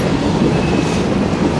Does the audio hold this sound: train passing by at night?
yes